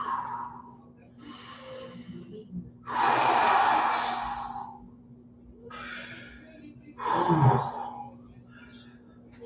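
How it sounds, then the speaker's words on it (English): Slow, deep breaths during a cool-down exercise, with long audible exhales and inhales coming in a steady rhythm, close and alone, over a faint steady hum. "Easy, long breathing to cool down."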